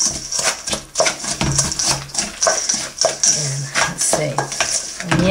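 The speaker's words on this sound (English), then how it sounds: "Mix that up real fine." A spoon stirs a melted butter mixture for dream bars in a bowl, making repeated scraping and clinking strokes in an uneven rhythm close by.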